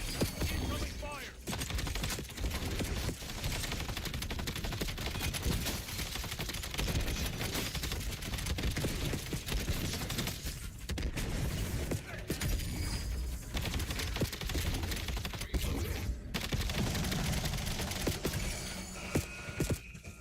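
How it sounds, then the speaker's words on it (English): Dense, continuous gunfire and bursts in a Black Ops 7 firefight, loud and sustained over a busy game soundscape with scattered voice chatter. "Incoming fire."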